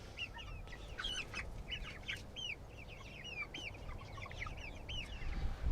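Homegrown chickens cluck and squawk in a pasture, with several birds calling in short, repeated bursts over a soft, steady outdoor background and no talking.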